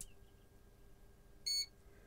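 A single short electronic beep from an Arduino Nano circuit running the toneAC library, built on a 328P DIP Nano plug-in PCB, sounds at startup, clear and close against a quiet background hum.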